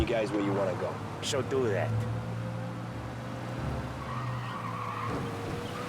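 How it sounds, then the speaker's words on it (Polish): A car in the video game Mafia: Definitive Edition skids through a handbrake turn, its tires squealing loudly under a steady engine drone. Someone talks over the start of the skid. "Nawet można na ręcznym wejść zakręt"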